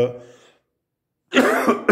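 A speaker's voice trails off, then after a brief silence comes a sudden, loud, close cough, harsh and throaty with a couple of bursts.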